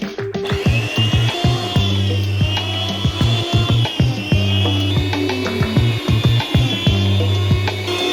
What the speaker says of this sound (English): Make it easier to slice in our trusty machine.